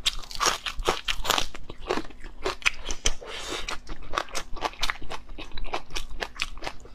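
Someone eats stewed pork, spicy mushroom and noodles up close, with loud, rapid crunchy bites and wet chewing repeating steadily throughout, alone without talk.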